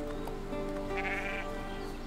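A baby sheep bleats once in the video game Everdream Valley, a short wavering cry over a steady background hum, moderately loud and unaccompanied by talk.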